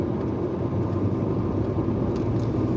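A car driving on snowy roads in the Netherlands during a heavy snowstorm, heard from inside as a steady, loud low rumble of engine and road noise that stays constant throughout.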